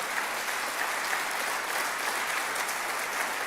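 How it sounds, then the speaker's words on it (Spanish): A church congregation claps together in loud, dense, continuous applause that holds steady throughout with no voices rising above it. "tienes que aplaudir más fuerte al Señor"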